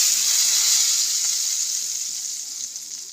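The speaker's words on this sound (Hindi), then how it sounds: "अब मैं इसमें तड़के लगा देती हूँ।" A ghee tempering with asafoetida and red chili powder sizzles with a loud, bright, hissing fry that fades slowly over a few seconds, heard on its own.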